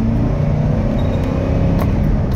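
A 2010 Chevrolet Express 2500 three-quarter-ton cargo van engine revs at half throttle, giving a loud, close, steady rumble that holds throughout.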